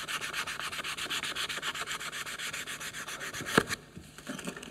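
Hand-sanding a wooden spatula with 120-grit sandpaper, a steady rhythmic scratchy rubbing with regular back-and-forth strokes, close and fairly loud, ending with a brief knock and quieter rubbing.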